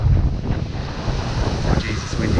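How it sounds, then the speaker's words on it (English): Strong wind buffets the microphone outdoors on flat ground at a log slabbing site, making a loud, rumbling roar throughout. "Oh, geez, it's windy today"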